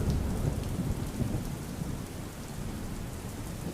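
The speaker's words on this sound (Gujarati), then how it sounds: "અમરેલીના રાજુલાના દ્રશ્યો છે કે જ્યાં ગાજવીજ સાથે ભારે વરસાદ પડ્યો" Heavy rain pouring during a thunderstorm in Rajula, Amreli, Gujarat, a dense continuous roar with deep rolling thunder underneath, steady and fairly close, with no talk.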